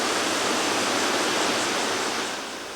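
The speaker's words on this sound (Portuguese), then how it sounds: "Em uma cachoeira deste tamanho, o barulho é intenso." A large waterfall with a 144-metre free drop in the Caparaó region, Espírito Santo, roars as dense broadband crashing water, loud and unbroken, easing slightly at the end.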